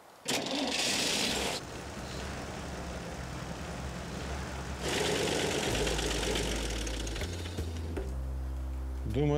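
A car engine runs at idle beneath a film scene, a steady low rumble with a faint mechanical clatter, joined by other noises and speech, ending with a deeper, tonal engine note.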